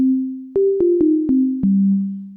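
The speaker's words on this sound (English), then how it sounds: "Now we have a pure sine wave." Dry pure sine wave tones from a Yamaha EX5 synthesizer with the reverb removed, a held note followed by five quick notes that step gradually downward, clean and steady with no other sounds.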